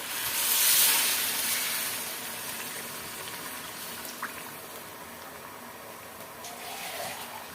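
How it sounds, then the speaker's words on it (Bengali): Khichuri cooking in a pot, a steady low bubbling and simmering hiss that swells briefly at the start and continues quietly with no talk. "রাতের বেলা একদম ভাত খেতে ইচ্ছা করে না, তখন মনে হয় একটু চটপটা কিছু খাওয়ার জন্য, আর সে কারণে খিচুড়িটা বসায় দিলাম।"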